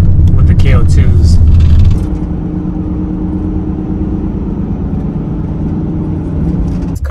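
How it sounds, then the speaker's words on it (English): Steady road and tire roar from a 4x4 Mercedes Sprinter van cruising on a highway on mud terrain tires, a constant low rumble heard from inside the cabin, louder at first and then settling to an even drone. "because these are mud terrain tires, a little bit of road noise"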